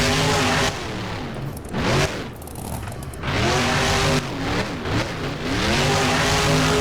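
The Grave Digger monster truck engine roars loudly in BeamNG during a freestyle run, revving up and down in surges with brief dips between bursts of acceleration.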